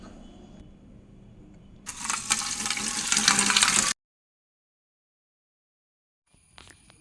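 Water runs from a tap over leafy greens being washed for sambar, a loud steady gush lasting about two seconds, then silence and a faint clatter at the end.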